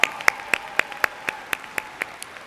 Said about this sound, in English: Let's give a round of applause for the ESU Commencement Band